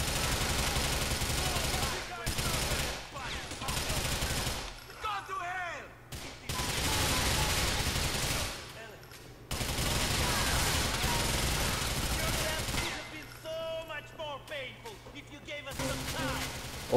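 Gunfire in GTA 4 comes in loud, dense bursts of rapid shots separated by brief lulls, with someone talking over parts of it and game sounds in between.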